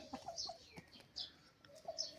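Rooster and chickens on a farm, soft scattered clucks and short calls coming in small bursts, faint and fairly close, with no talk over them.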